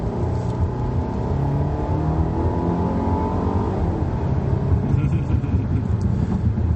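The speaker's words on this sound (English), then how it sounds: "I like this little turbo 4-cylinder." A 2017 Volvo XC90 R-Design's small turbocharged four-cylinder engine pulls steadily under acceleration, a continuous droning roar from inside the SUV that holds at an even level throughout.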